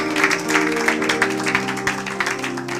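A church congregation applauds in praise during a worship service, with rhythmic clapping over steady sustained musical tones that continue throughout.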